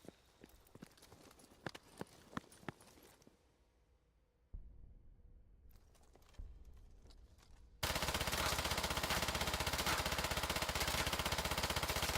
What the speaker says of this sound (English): PPSH with the drum mag.